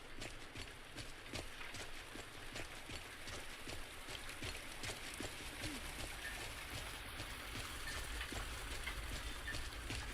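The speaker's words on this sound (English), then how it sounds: "It's raining outside and it's so peaceful." Soft, steady rainfall patters outside, faint and even, with scattered drips tapping irregularly on surfaces.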